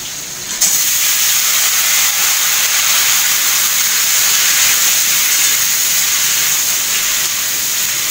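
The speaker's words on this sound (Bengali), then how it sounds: "মাছ ভাজা হচ্ছে।" Fish sizzling as it fries in hot oil in a home Bengali-style kitchen with little oil. A loud, steady frying hiss kicks in after a short quiet start and holds evenly to the end.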